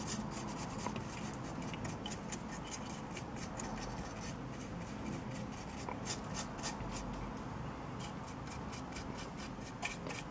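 A brush is dry-brushed across a Khorne Lord of Skulls miniature, making a fast, continuous run of close, soft bristle scrubbing strokes with no pauses.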